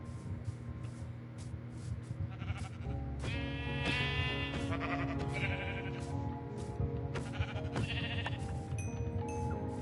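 Sheep bleating in the Minecraft video game: several wavering, nasal baas in a row over a steady bed of game sound, the calls clear and fairly close, with no talking over them.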